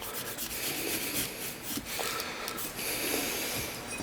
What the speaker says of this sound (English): remove the rust that's built up on it. Do the same thing around the sides of the coil.